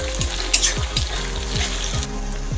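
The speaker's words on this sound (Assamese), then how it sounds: "এইখিনি অকণমান ভাজি ল'ম।" Onions with ginger-garlic paste fry in a pan with a continuous close sizzle, broken by a regular series of soft knocks about every half second as the mixture is stirred, and no voices.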